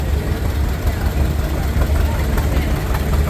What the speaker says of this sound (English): right behind here we have a 1952 Farmall H, Bill Peterson from Genoa.